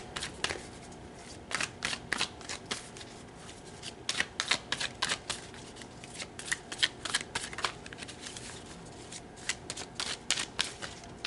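Oracle cards are shuffled by hand in quick bursts of crisp riffling and flicking, close up and fairly quiet, with short pauses between bursts and no talking.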